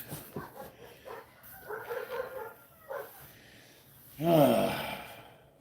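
A dog barks once, loud and close, near the end, after quieter muffled knocks and movement noises.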